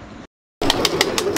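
Pigeons cooing up close in a steady run of soft, repeated calls, with a short silent gap at the start and no one talking.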